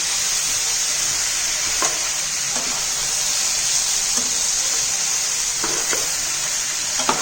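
Fish head curry is stirred and mixed in a pan over steady, close sizzling, with a spatula scraping and tapping the pan every second or so. No one speaks.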